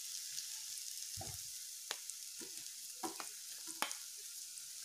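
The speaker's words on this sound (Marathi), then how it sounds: "आता मी त्यामध्ये गूळ टाकून घेते।" Jaggery is tipped into steamed grated pumpkin in a pan and stirred, making a soft sizzle with a few light scrapes and clinks of a spoon against the pan, fairly quiet, with no talking.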